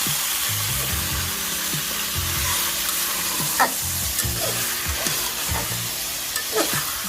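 Masala with browned onion frying in hot oil while being stirred, giving a dense continuous sizzle with occasional scraping clicks of the spoon against the pan, loud and close with no talking.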